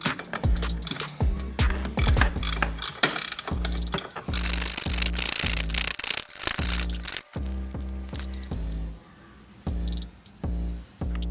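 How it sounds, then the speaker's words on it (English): Ratcheting on a 15mm bolt at the brake master cylinder reservoir of a 1999 Camaro, rapid clicking bursts in steady repeated runs with short pauses, close and fairly loud, no talk. "Taking off the second bolt on the brake master cylinder reservoir."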